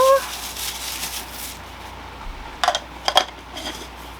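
A plastic lid being screwed onto a tumbler, heard as a couple of short, close clicking and scraping bursts late in the clip after a quieter stretch with faint rustling.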